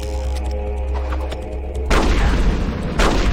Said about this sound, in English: I just threw a grenade.